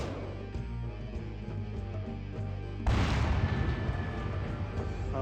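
Artillery firing in the strategy video game Final Liberation: Warhammer Epic 40k, a sudden loud volley partway through followed by a dense rumble of booms and blasts, with quieter game sounds before it.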